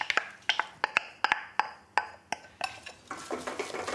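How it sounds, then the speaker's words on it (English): Pasta being stirred through a butter-thickened bottarga sauce in a pan: a quick run of sharp metallic taps and clinks as utensils strike the pan, ending in a brief wet scraping swish. "This needs no more than a stir to be put onto my waiting plate"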